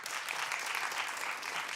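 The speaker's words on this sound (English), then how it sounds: "Now clap if you know about this." Studio audience clapping on a daytime talk show, a brief burst of dense, fairly faint applause heard from a distance and steady across the moment.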